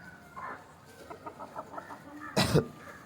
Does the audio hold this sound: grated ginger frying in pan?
no